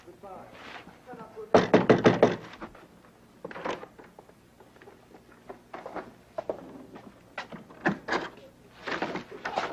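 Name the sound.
knocking on a door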